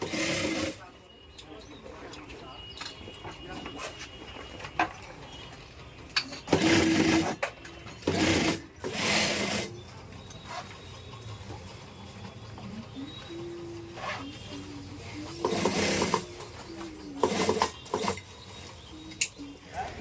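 An industrial sewing machine stitches bags in a workshop, its rapid mechanical whirring rising in loud bursts and pausing between seams, while someone talks over it.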